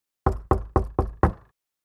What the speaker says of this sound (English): On Friday morning, there was a knock at the door.